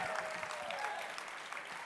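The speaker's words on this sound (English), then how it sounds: "let's give Dick Satori a big, warm round of applause" A theatre audience at a live stand-up storytelling show gives a steady, dense round of applause for the final storyteller, heard from a distance and fairly faint.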